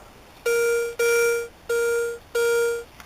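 Four identical bright, steady electronic beeps from a metal detector signalling a zinc penny in a park, each about half a second long with short gaps, loud and close with no talk.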